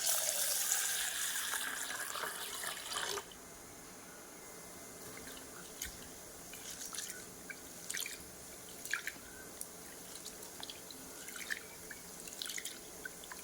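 Brown basmati rice rinsed in water: a running tap pours for the first few seconds, then scattered drips and light splashes follow softly at close range.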